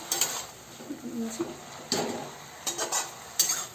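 Amaranth (chaulai) leaves being stirred in a pot, a few scattered scraping and clinking strokes of a utensil against metal, fairly soft, with no talk.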